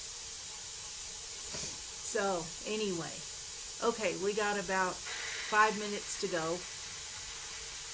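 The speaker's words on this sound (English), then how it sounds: "You can probably hear it in the background spewing a little bit of what sounds like it's spewing water." A pressure canner processing potatoes gives off a steady background hiss of escaping steam and air, with a person talking over it throughout.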